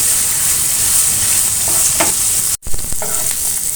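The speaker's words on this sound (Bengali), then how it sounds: "মশলা রসুন সবকিছু ভালোভাবে ভাজা ভাজা হয়ে আসছে" Prawns frying in a pan with whole peeled garlic cloves and spices, a steady loud sizzle with occasional stirring scrapes and a brief sharp break partway through; no voices.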